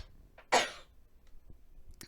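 A single sharp cough bursts out close to the microphone, then quiet room tone with a couple of faint clicks.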